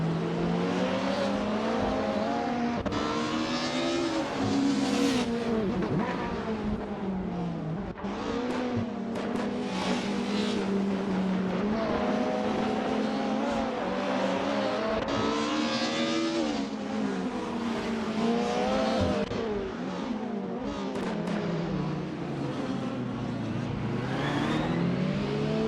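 Supercars racing around Seattle Circuit in a racing video game, continuous close engine roar with rising and falling revs through gear changes, several cars overlapping.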